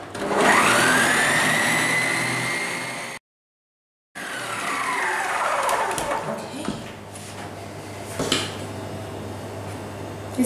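Electric mixer whirring through orange sponge cake batter with flour, a loud whine rising in pitch then running steadily, briefly cut off, then resuming with some clatter, close by.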